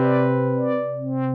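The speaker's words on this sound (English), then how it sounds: "What we're basically doing is we're causing one of the LFOs to modulate the rate of the other" A Novation Summit digital synth holds a sustained tone while one LFO modulates another LFO's rate, producing a steady rich drone with slowly swelling, wavering brightness over about a second and a half.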